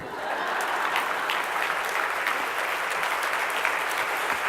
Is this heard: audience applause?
yes